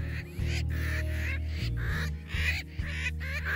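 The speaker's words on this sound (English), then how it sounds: "watch the skies and the sands for the sooty terns. A kind of seabird known locally as widerwings." Sooty terns, seabirds on Lord Howe Island's North Beach, call in harsh nasal repeated cries from a large colony, a steady close chorus with no speech.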